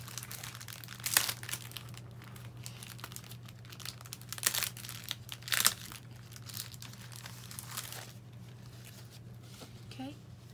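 Sheets of craft paper from a paper collection crinkle and rustle as they are handled, with several louder crumpling bursts over a steady low hum.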